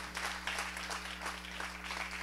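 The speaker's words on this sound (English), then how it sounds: "See how not everybody will clap?" A church congregation claps together in quick, uneven bursts that carry on for about two seconds over a steady low electrical hum in the hall.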